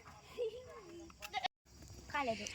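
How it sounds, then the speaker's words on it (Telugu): A goat at a lone forest house gives a faint, wavering bleat, followed by a short higher bleat after a brief break, with people talking nearby. "మేక దీని పేరు"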